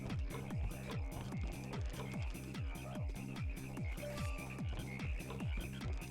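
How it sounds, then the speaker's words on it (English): Frogs in TY the Tasmanian Tiger croak in a steady, evenly spaced chorus, repeating roughly twice per second, fairly close and continuous, with no talking over them. "I can hear the froggies."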